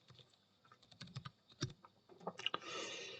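Quick bursts of typing on a computer keyboard, close and fairly quiet, with irregular key clicks and a louder clack, followed by a soft sustained rustle at the end, no speech.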